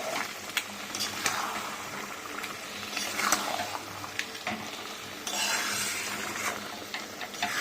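Methi chicken with spices being sautéed and stirred in a pan, giving a steady sizzle under repeated scraping and clinking of a utensil against the pan, close and continuous with no talking.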